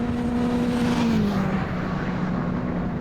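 Sigma 135 race cars approach through the Coram corner at a BARC 2021 circuit race, with a sustained engine whine that shifts downward in pitch as the cars close in, loud and steady with no talk.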